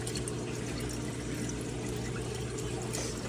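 Water spills gently into an aquarium sump in a recirculating fish tank system, a steady soft trickle like a small waterfall without splashing, heard up close and unbroken.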